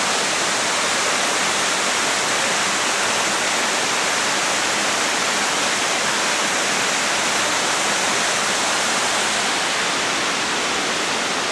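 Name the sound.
waterfall at Lytle Creek middle fork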